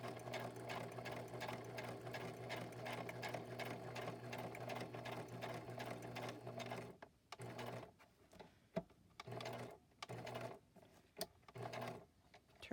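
A sewing machine chain stitching library pockets made from wallpaper, a steady close humming whir that breaks into short stop-start runs of stitching toward the end.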